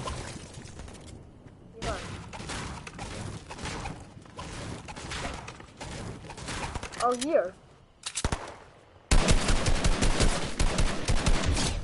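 Rapid bursts of video game gunfire come and go, with two people chatting over it, ending in a loud, sustained stretch of shooting.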